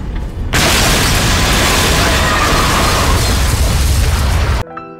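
A grenade explodes in the video game Metal Arms: Glitch in the System, erupting suddenly into a loud, sustained roaring blast that rumbles for several seconds before cutting off abruptly.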